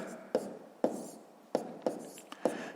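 Numbers are handwritten during a sixth-grade multiplication exercise, heard as five or six short, distinct taps and scratches of a pen on paper, spaced irregularly, close and fairly quiet, with no talking.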